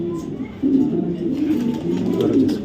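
Club racing pigeons give low, rolling coos that swell and repeat close by, one bird after another, over light background noise.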